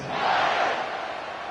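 Football stadium crowd at a Texas versus Clemson game, a dense, steady roar of many voices buzzing after a score, sustained and fairly loud for the brief moment.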